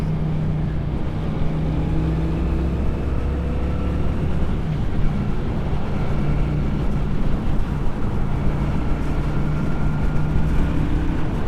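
A 2024 Honda Shadow Phantom motorcycle engine drones on continuously while cruising at a constant pitch, a low rumbling hum with no voices and no change in speed.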